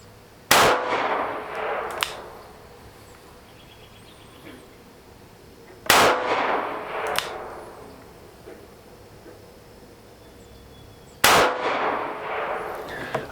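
A Taurus Model 85 UltraLite revolver fires three sharp, loud shots, each about five seconds apart and each followed by a fainter metallic click, with quiet outdoor background between.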